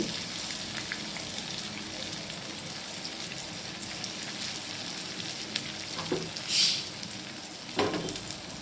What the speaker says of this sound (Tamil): கொஞ்சம் பெருங்காயத்தூள் இதெல்லாம் போட்டுக்கலாம் போட்டு நல்லா வதக்கி விட்டு